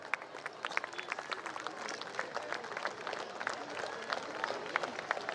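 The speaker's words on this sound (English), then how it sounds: "A huge round of applause everyone, please." Audience applause at a steel plant Formation Day awards ceremony: a fairly quiet, steady patter of many hands clapping with individual claps standing out, continuing without a break.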